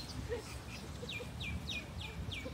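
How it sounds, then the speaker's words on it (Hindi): Small birds chirp outdoors at the Jeddah waterfront, a string of short, bright calls repeating about every half second, fairly close and alone with no talk. "उस कदर खूबसूरत चिड़ियों की और डिफरेंट परिंदों की आवाज़ें आ रही हैं"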